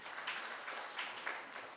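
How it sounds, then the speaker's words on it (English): A conference audience at a regional health assembly in Mbale claps for itself, producing a steady, dense wash of many hands clapping together. The sound is faint and somewhat distant, with no talking over it. "Clap for yourselves."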